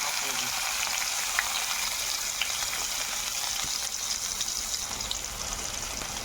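Onions sauté in a pan with a steady, close sizzling crackle and hiss, and faint scraping from stirring mixed in.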